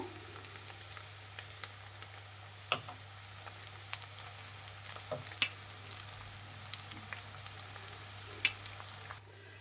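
Egg and vegetables frying in a pan for street-style egg noodles: a continuous quiet sizzle with scattered sharp crackles and spatula scrapes, no talking.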